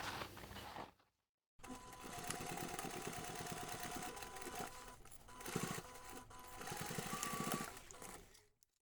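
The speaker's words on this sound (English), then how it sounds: "you can take this to the machine and we're going to sew those two seams" A sewing machine stitches two seams on a laptop bag divider zipper pocket, running in a steady, continuous whir after a brief pause, then carrying on loud and close to the end with slight changes in speed.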